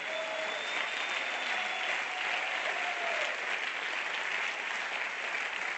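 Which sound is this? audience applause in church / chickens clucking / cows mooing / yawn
audience applause in church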